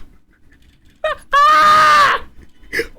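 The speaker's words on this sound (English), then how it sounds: "Gaara then starts screaming the throatiest scream I've ever heard." Anime character Gaara lets out a loud, throaty, sustained scream lasting about a second, preceded by a short shorter cry and followed by faint groaning sounds.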